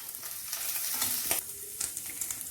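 Squid pieces coated in semolina sizzle and crackle steadily in a frying pan, a close, continuous hiss with scattered sharper pops, no voices.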